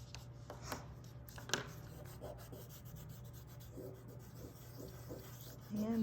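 Oil pastel being rubbed and blended on paper while recreating Starry Night, a soft, close scraping and rasping texture with a few light taps, continuous and faint over a low background hum.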